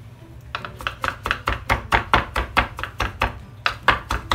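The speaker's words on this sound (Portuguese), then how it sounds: "E vou picar ele na faca." Steady rhythmic knife chopping of spinach on a board, about sixteen crisp close strikes in a regular beat, no voices.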